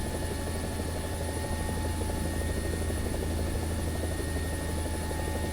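Helicopter in War Thunder flying low and fast, its steady rotor and engine drone loud and continuous throughout, with no voices.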